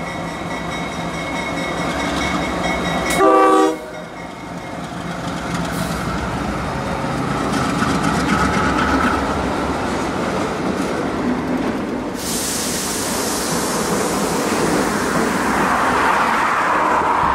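A freight train, the Q178 piggyback service, rumbles in steadily, with a brief loud horn blast early on, followed by the growing roar and clatter of wheels and engines nearby.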